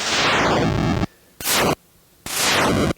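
Bursts of harsh synthesized noise from a Polyend Tracker sweep downward, each cutting off abruptly: one long burst, a short one, then another longer one.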